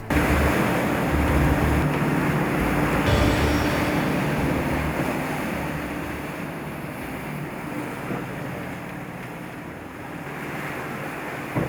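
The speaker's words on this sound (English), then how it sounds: "Now we're motoring with the Genoa up and the engines doing 2000 RPM." A twin-engine sailing boat motors out of a lagoon with its Genoa up and both engines at 2000 RPM, against an outflowing current. A loud, steady rush of wind and water runs throughout, easing slightly toward the end, with no talking.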